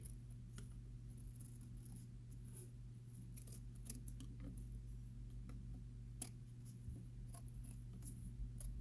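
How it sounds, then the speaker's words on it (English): Scissors snip on an angle around the bottom of a small dollhouse pool, making faint, irregular cutting clicks over a steady low hum, with no talking. "you want to take your scissors and you want to cut as close as you can on an angle going around the bottom"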